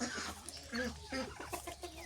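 Chickens cluck in short, overlapping calls close by, mixed with young ducks in a farmyard coop, fairly dense and continuous.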